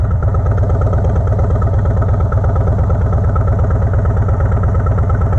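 A 2017 Harley-Davidson Road Glide fitted with a Two Brothers Comp Shorty turnout exhaust idles close by with a deep, throaty, steady low-pitched pulsing burble, loud and continuous with no speech.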